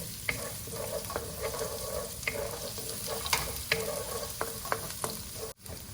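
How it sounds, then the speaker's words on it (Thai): Garlic and black pepper stir-fried in a pan, giving a steady loud sizzle with repeated scraping and tapping of a utensil against the pan, close and continuous, no voices. "ใส่กระเทียมกับพริกไทยนะคะ ที่เราแบ่งไว้นะคะลองไปผัดก่อนค่ะ"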